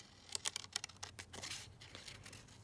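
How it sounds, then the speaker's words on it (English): Fabric butterfly being cut out of scrap fabric with scissors: a quick series of close, crisp snipping and rustling cuts, fairly quiet, with no talking. "I'm just going to cut this one out"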